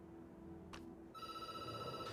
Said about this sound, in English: The phone rings and you jump.